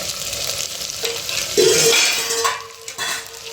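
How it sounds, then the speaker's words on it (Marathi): Vegetables fry with masala paste in a pot, a steady close sizzle with a stirring scrape and a few light utensil clinks against the vessel. "आपण बघू शकता आपल्या भाज्या मस्त तुम्ही फ्राय झाल्यात"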